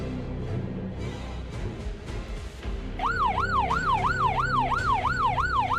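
A police patrol car siren starts up partway through, a loud rising-and-falling wail cycling rapidly over road rumble and a nearby engine.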